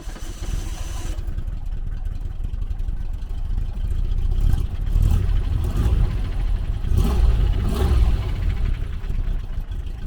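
A classic car's engine revs and accelerates up close, a steady loud rumble rising into surging throttle blips, with no talking over it.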